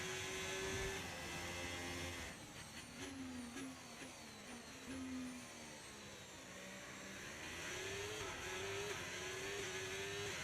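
An F1 race car in F1 25 drones continuously with a high engine whine, pitch rising and falling through gear shifts as it closes in from behind over steady road and wind noise.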